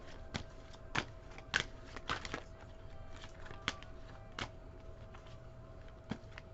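Quiet repeated riffling snaps of tarot cards being shuffled, in irregular bursts a second or so apart, close by with no talking.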